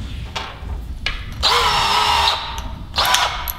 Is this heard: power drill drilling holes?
yes